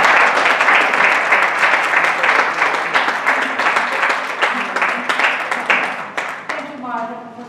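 A lecture audience applauds to welcome a professor at the Berlind Symposium, steady sustained clapping from a crowd in a hall that fades out as a voice begins at the end.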